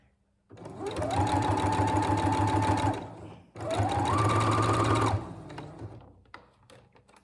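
An electric sewing machine stitches white bias binding onto Easter bunting flags in two loud, steady whirring runs of about two and three seconds, the motor ramping up at each start, separated by a brief pause, followed by faint handling noises.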